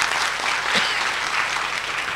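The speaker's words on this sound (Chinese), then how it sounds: "我们再给他们鼓掌一下哈" Audience applause fills a hall at a gathering, steady dense clapping from a crowd that holds its level throughout without a break.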